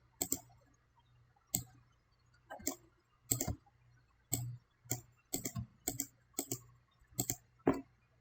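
Mouse clicking during photo editing in Photoshop, a series of sharp close clicks in irregular rhythm, some single and some in quick pairs, over a faint low hum.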